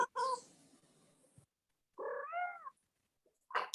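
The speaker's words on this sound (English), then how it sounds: "I heard the cat." A house cat meows twice, near and fairly loud, with a short squeaky call followed by a longer drawn-out meow and a brief third sound, during a quiet pause in a committee meeting.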